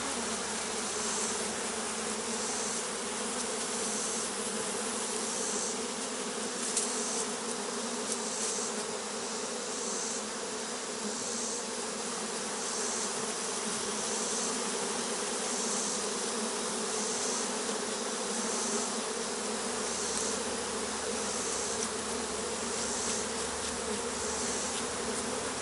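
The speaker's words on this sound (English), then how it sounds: "I could shake these bees off" Honeybees buzz in a dense, continuous drone while being brushed off a hive frame, the swarm sound steady and close throughout with no voices.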